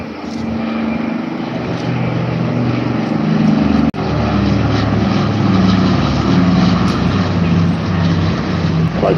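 A C-47 Dakota piston-engined propeller aircraft flies past at a seaside airshow, a loud, steady droning roar with a throbbing low engine note that holds for the whole span, with a brief dropout midway.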